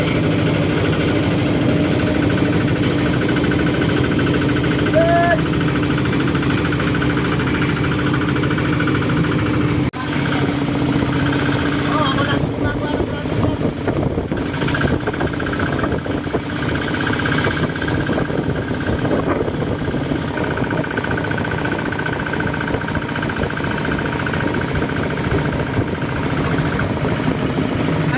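A small tractor engine runs steadily in a rice field setting, a continuous chugging mechanical drone close by, with a brief spoken word over it.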